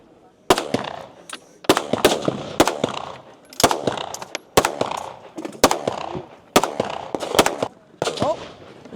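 At a shooting competition firing line in Poland, sharp gunshots crack in an uneven rhythm, about a dozen loud reports across several seconds with echoing tails, while people talk in the background.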